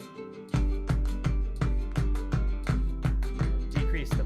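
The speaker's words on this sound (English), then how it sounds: "I want the kick drum to really come in with that clapping." A dance music track with a steady four-on-the-floor kick drum entering after a brief quieter intro, thumping evenly about twice per second alongside layered clapping and bright instruments.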